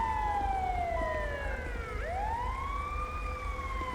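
A wailing ambulance siren from the video game GTA V with the LSPDFR police mod sweeps down and back up in pitch, loud and steady for the whole stretch with no talking.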